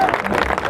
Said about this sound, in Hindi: मजा आ रहा हो तो ताली वाली जोर से बजाओ यार